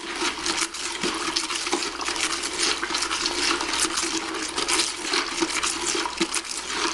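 Liquid odor neutralizer mixed with Dawn dish soap is stirred in a container, making a continuous close, watery swishing and sloshing with faint clinks, and no talking.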